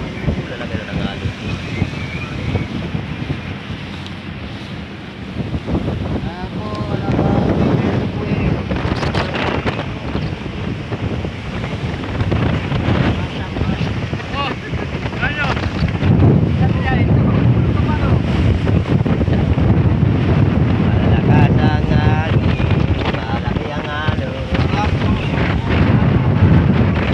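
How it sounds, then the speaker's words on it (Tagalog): Strong wind buffets the microphone as big sea waves surge and crash around a small boat off Barangay Melchor, Perez, Quezon, a loud continuous roar with a voice talking now and then. "Lalaki na ng alon mga idol."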